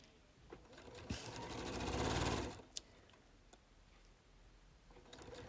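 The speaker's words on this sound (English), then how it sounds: "Sew them together all the way along until you reach that first mark." A sewing machine runs a fabric seam along the quarter-inch mark of the needle plate in a quiet room, a soft rapid mechanical whir swelling for about two seconds, then a few faint ticks and clicks.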